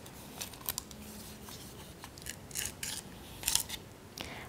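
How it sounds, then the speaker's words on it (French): Scissors snip through transparent string in a series of short, crisp cuts spaced irregularly, close and fairly quiet, with light handling rustle between snips. "il faut que je prenne de la ficelle et que je la découpe"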